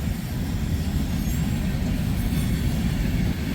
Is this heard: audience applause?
no